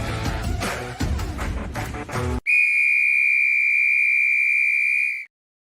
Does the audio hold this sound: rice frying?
no